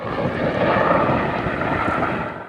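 A Canadair firefighting water bomber flies over a wildfire zone, its engines making a steady, loud, broad roar with a windy edge that holds through the whole stretch and eases slightly at the end.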